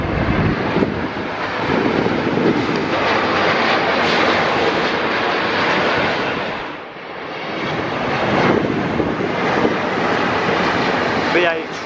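British Airways Boeing 777 airliner landing at London Gatwick Airport in high winds, a loud roaring jet engine rush swelling and easing, with gusty wind noise throughout.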